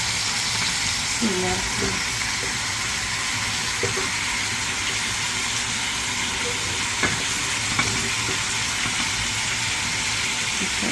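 Onions sauté with pasta in a pan, a loud continuous sizzle with a few stirring scrapes, while a voice speaks briefly over it.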